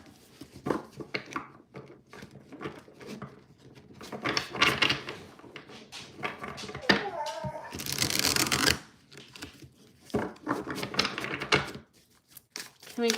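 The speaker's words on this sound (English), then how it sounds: "Let's shuffle one more time." Tarot cards being shuffled by hand, with quick riffling flutters and soft slaps in several bursts, including one longer bridging riffle, close and clear with brief pauses between.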